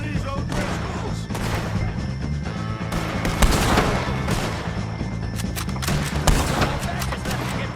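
Rapid gunfire from a Red Dead Redemption 2 shootout with O'Driscolls, repeated sharp shots and booms over a musical score, with voices shouting amid the battle.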